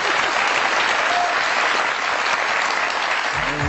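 Sustained applause from an audience welcoming a singer onto a stage, steady and dense for the whole stretch, with no voices over it and a faint tonal sound entering at the very end.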